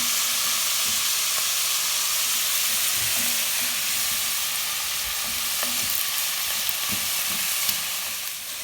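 Meat sizzles and fries in a hot pan while browning for a goulash soup. A steady, close, crackling sizzle continues throughout, with occasional stirring scrapes and pops and no talking.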